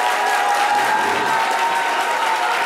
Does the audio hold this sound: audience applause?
yes